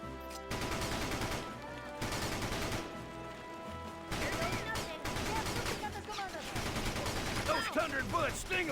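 Bursts of in-game gunfire from the GameCube war strategy game Battalion Wars, rapid rattling volleys and shots recurring across the clip in loud clusters with brief pauses, set against game music and effects.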